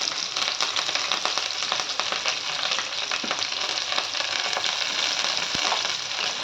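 Onions, green chillies and curry leaves fry in oil over a medium flame, giving a steady, close, continuous sizzle with faint stirring clicks throughout and no talking.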